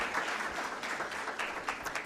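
Applause from the audience at a Kenyan university moot court competition final as a student is handed her award; steady, moderately loud clapping from a crowd with no pause.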